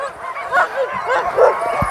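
Siberian husky sled dogs waiting at the start of a race stage in Lanuéjols bark and yip eagerly, several short excited calls at moderate distance over outdoor crowd murmur.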